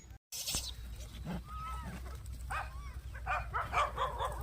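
Outdoors, a dog gives a few scattered barks while it chases monkeys. The barks are fairly faint and irregular over background noise, with light rustling between them.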